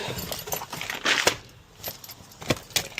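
A set of keys jangles and clinks in several metallic bursts at close range while an old two-way radio is removed from a New Holland T7.200 tractor.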